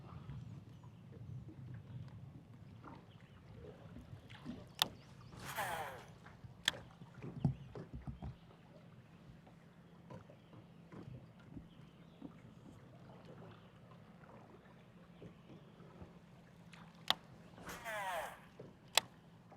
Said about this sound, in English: I hear a boat coming out of it.